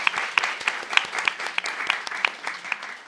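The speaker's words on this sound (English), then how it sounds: "A round of applause to everybody." Audience applause at an art forum, steady dense clapping from a crowd with a few sharper nearby claps standing out, continuing throughout.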